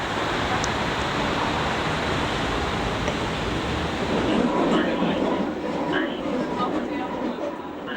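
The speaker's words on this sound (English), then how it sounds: "we caught the underground subway train into the city" Berlin underground subway train running, a loud, steady rumble and rush of wheels and carriage noise filling the whole stretch, with voices faint beneath it.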